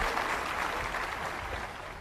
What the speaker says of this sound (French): Une bonne main d'applaudissement, d'appréciation pour Nicky.